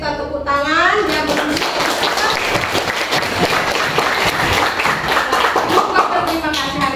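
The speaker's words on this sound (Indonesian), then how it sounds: "Bagi yang sudah sukses, kita tepuk tangan." A classroom of students claps hands together after a lesson, the sound building into sustained, lively clapping. A voice speaks briefly before it starts, and other voices mix in under the applause.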